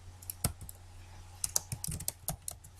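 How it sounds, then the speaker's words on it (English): Irregular clicks from a computer keyboard as text is typed, close and fairly soft, in scattered bursts with short pauses and no voices. "I'm going to type that in"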